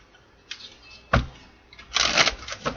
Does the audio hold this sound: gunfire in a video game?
no